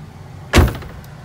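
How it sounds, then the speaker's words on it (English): A single solid thud of a 2022 Ford Transit 150 van door being pulled shut, close and loud, then quiet. "Then we can easily shut the door."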